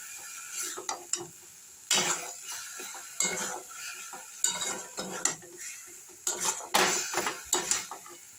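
Banana flower mash being fried and stirred in a metal pan, with rhythmic bursts of a spatula scraping and knocking against the pan over a faint sizzle, repeated every second or so.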